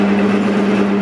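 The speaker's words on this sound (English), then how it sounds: "Then we're going to try and drill a hole now." A lathe drilling a hole in a part, a steady, even mechanical hum close by with no talk.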